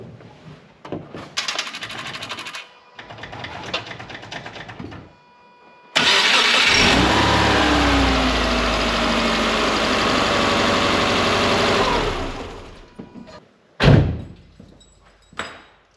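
A large race car engine with new plugs and wires cranks and catches, then roars into a loud, steady idle for several seconds before cutting off, followed by a brief revving burst.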